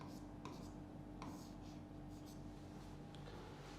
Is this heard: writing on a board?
yes